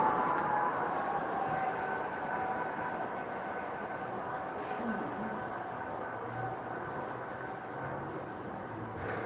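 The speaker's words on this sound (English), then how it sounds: "Show you one more train here." A live stream of an APX 572 East freight train rolling past on a railway. It gives a steady low rumble with broadband rail noise that holds constant and fairly near for the whole stretch.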